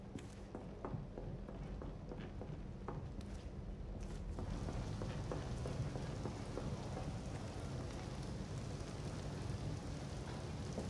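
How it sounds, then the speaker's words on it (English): Steady rain in the video game Detroit: Become Human patters continuously across the whole stretch, a dense wash of falling drops with a few brief louder splashes, no voices. "Raining outside still."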